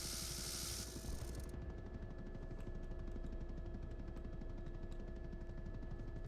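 Machine gun fire from a helicopter in the game BattleBit, a dense, steady rattle of rapid shots over a constant rotor and engine drone, loud and close throughout.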